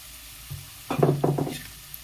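Onions frying in oil with turmeric and salt for a mixed vegetable curry, giving a short burst of sizzling and stirring in the pan that swells near the middle, then fades back to quiet.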